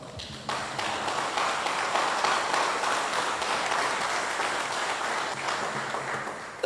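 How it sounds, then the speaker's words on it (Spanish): A congregation at a Spanish-language church service applauds in a steady, dense wash of clapping that holds at an even level for several seconds, with no speech over it. "Si lo vas a aplaudir, apláudele."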